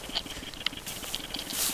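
Rain patters on a Ricoh camera during a hike on Kamilche Ridge, a close, steady stream of small taps and ticks over a soft wet hiss.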